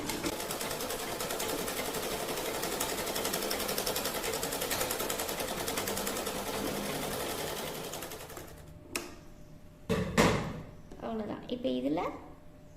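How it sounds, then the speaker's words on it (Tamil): Sewing machine running steadily as it stitches a folded edge on lining fabric, loud and continuous for about nine seconds, then stopping; brief clicks and a voice follow afterward. "இப்படி மடக்கி வச்சு மேலே ஒரு தையல் இப்படி போட்டுக்கலாம்"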